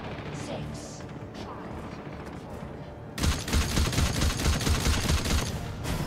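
Rapid gunfire erupts in a PvP shooter partway through, a dense, loud stream of repeated shots. Before it there is quieter game ambience, and speech runs over the action.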